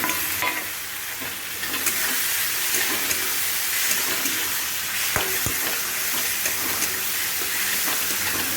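Tomato paste hits a hot pan of fried vegetables with a steady broad sizzle, stirred throughout, with a few sharp clinks of utensil against metal. No one speaks.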